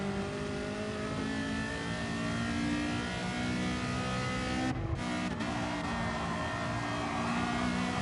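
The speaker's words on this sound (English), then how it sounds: "And then Soul Rider playing drift in his F40" Ferrari F40 race car drifting in the Gran Turismo Sport racing game, its engine droning steadily throughout with tire and engine noise layered in, and a brief dip partway through before the sound resumes.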